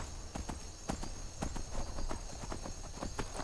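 Rhythmic clip-clop of horse hooves at a steady quick pace in the video game Skyrim, clear and continuous over a faint background hum.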